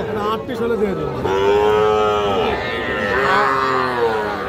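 Bull calves around four to five months old moo repeatedly at a livestock market, several long drawn-out calls close by over a busy background murmur.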